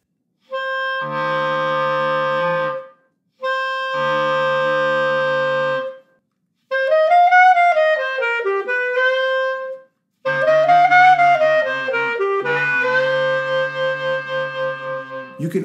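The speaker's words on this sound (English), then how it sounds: "We growl by simply blowing air through the clarinet and making a growling sound with our throat." Clarinet phrases with a rough, buzzing growl made by the throat while blowing, loud and close, a few separate held notes followed by gliding, wavering lines.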